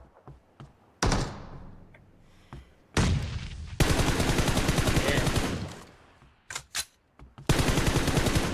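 Gunfire in a video game, with several sharp single shots followed by long bursts of rapid automatic fire, close and loud, and brief pauses between the volleys.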